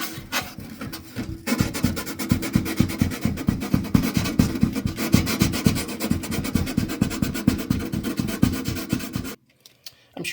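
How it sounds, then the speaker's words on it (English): Sandpaper or emery cloth rubbed back and forth on the end of a wire connector during a toaster oven repair, a fast steady rasping stroke that runs loud and close for about eight seconds, then stops. "Get a little sandpaper in there too."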